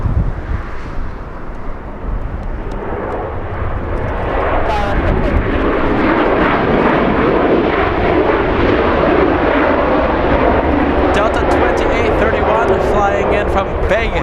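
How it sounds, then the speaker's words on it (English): Aeromexico Dreamliner jet taking off at Los Angeles International Airport, a loud, broad engine roar building steadily and holding, with wind buffeting and people talking over it. "there goes the Dreamliner. Mexican Dreamliner."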